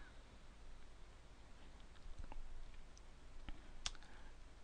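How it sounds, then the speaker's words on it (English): A computer mouse gives a few faint, sharp clicks against a quiet room background while archive records are browsed online, no talking. "Let's click on that."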